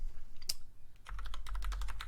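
Keys clatter on a computer keyboard while text is entered into a logo design tool. A lone click comes first, then a brisk, close run of keystrokes follows after a short pause.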